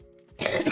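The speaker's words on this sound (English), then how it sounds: "I have like wet coughs right now" A wet, phlegmy cough from a sick person with a congested throat, a short burst that rises abruptly after a quiet moment and stays close and loud.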